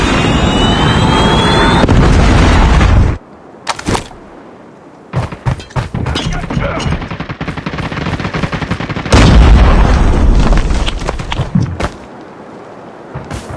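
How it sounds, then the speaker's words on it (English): Loud, heavy blasts and bursts of gunfire from a Predator missile strike in Call of Duty Mobile, with booming explosions at the start and again midway, broken by sharp rapid shots in between. "Friendly Predator missile inbound."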